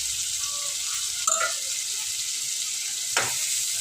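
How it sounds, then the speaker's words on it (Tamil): Onions and curry leaves sauté in a pan for a mutton gravy, giving a steady close sizzle with a couple of brief stirring scrapes, no voices. "வெங்காயத்தை நல்லா வதக்கி விட்டுக்கலாம்"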